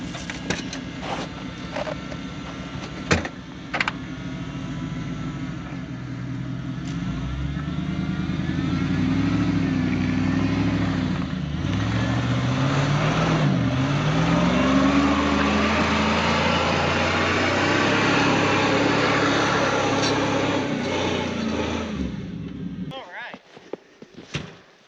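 Pickup truck engine idling and revving while turning around off-road in snow and mud, a steady mid-pitched drone swelling and falling over many seconds, with people talking over it and a few knocks before it cuts off.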